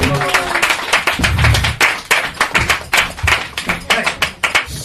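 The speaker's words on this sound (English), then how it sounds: "Give them all a huge round of applause for the mate." A comedy-show audience in London claps for pairs of comedians, a loud, close burst of individual handclaps with a sharp irregular rhythm and voices mixed in.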